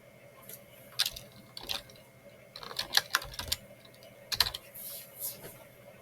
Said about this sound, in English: what you have to type here is installer